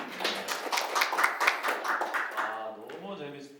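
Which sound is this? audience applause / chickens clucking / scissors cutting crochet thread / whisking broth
audience applause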